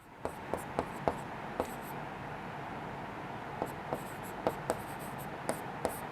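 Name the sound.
writing out an answer, likely on a board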